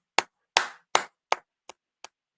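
Six sharp, separate claps spaced about evenly, the last two fainter and shorter, standing alone against silence.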